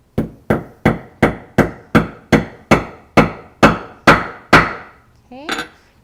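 Hammer setting a rivet on a leather tote strap, about a dozen sharp, evenly spaced blows that get slightly slower toward the end, close and loud, followed by a brief scrape.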